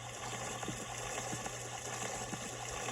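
Water gushes and churns steadily into a flooded cellar in the game Deponia, a continuous watery rush with faint bubbling and no voices.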